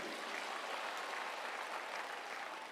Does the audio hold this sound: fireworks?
no